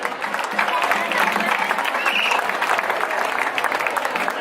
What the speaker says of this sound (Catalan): El rebem en un fort aplaudiment